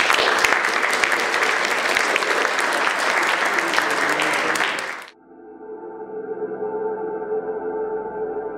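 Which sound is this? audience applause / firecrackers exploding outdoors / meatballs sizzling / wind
audience applause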